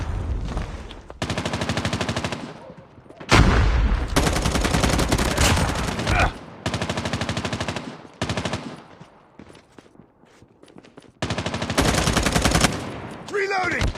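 Gunfire in a shooter video game played on a Realme C11 phone, loud sustained automatic bursts cutting in and out with short pauses between volleys, dominating the clip.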